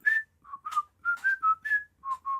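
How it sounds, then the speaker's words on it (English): A person whistles a short tune alone, a string of clear separate notes with brief gaps, close and fairly soft. "like he's just whistling it?"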